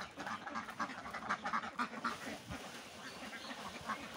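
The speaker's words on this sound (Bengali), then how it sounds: "খাবারের গন্ধ পেয়ে হাঁসগুলো কিন্তু সব উপরে চলে আসছে" Ducks on a farm quack busily as they gather for feed, a dense flock calling in rapid overlapping bursts, close and fairly loud throughout.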